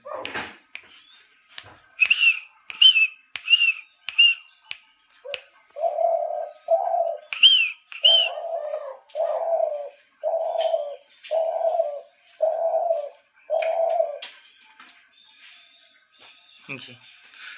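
Spotted dove calling close by, a series of evenly spaced soft coos, preceded by higher repeated notes, loud and clear with little else around.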